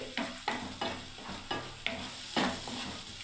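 Curry being stirred in a pan just after a little sugar goes in, a sequence of about six distinct scraping strokes in a steady rhythm, close and moderately loud over a faint sizzle, with no talking.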